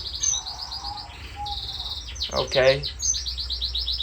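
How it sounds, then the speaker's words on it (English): Owl finches, a small caged pair being bred indoors, give several short, high chirps and a brief trill close by, with one spoken word in between. "Just wanted to show you guys the owl finches and how to breed owl finches."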